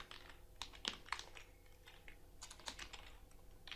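Soft, irregular bursts of clicking keys on a computer keyboard while entering code in an editor, fairly quiet and close, with brief pauses between quick runs of keystrokes.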